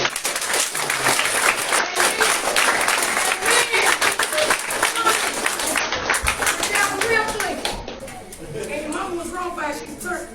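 People at a memorial gathering clap their hands together, dense and loud for most of the stretch, then thinning out as children's voices and talk take over.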